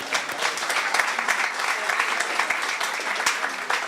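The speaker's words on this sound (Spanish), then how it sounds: "Fuerte aplauso, por favor." Audience applause at an international mechatronics congress at a university centre, even sustained clapping from a room full of people, with faint voices mixed in underneath.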